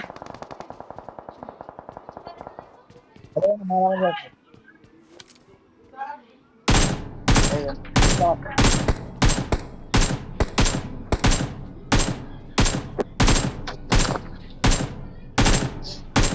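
In a video game, a submachine gun and a sniper rifle open fire in a fast series of loud, sharp shots after a quieter stretch with brief voice sounds.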